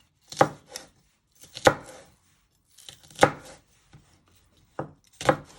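A knife slicing spring onion into small pieces on a cutting board, a handful of sharp separate chops with short pauses between them, close and clear with no talking.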